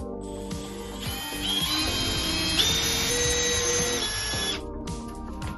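A power drill whirs steadily for several seconds, its pitch rising as it bites into a door while drilling holes for a hydraulic door closer, then winds down to quiet.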